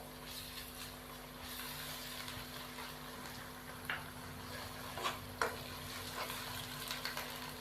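Ginger garlic paste frying with browned onions in a pan for dhaba-style daal chana, a steady low sizzle with occasional light stirring scrapes and taps, quiet and close, no talking.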